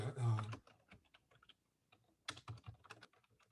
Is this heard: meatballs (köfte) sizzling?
no